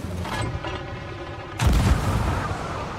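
Cannon fire in the pirate game Sea of Thieves: a rumbling mechanical bed gives way to a heavy low boom that rolls on as a sustained roar, close and loud with no voices.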